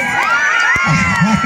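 Spectators at a village kabaddi match between Chaalkeshwar Muchari and Kedarling Muchari in Terye, Sangameshwar, shout and cheer loudly in a dense, continuous crowd roar, with excited children's voices rising above it.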